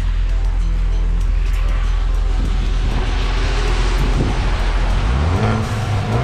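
A Ford Focus ST with its resonator deleted revs hard, engine drone swelling and the pitch climbing toward the end, loud and close throughout.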